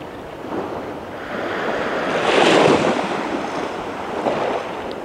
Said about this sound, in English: Did you hear the waves of the sea?